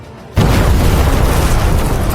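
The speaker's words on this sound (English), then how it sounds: "A cataclysmic explosion thundered across the arena as the lightning struck Ultulrus without mercy" A massive explosion as a lightning spell strikes in a fantasy arena, erupting suddenly after a brief hush into a loud, sustained roaring boom that fills the space.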